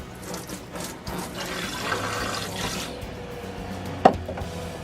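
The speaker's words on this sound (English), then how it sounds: "I have hot water, oodles and oodles of hot water" Steady rush of hot water pouring from a tap into a bath on a sailboat, continuous and fairly close, with a sharp clunk near the end.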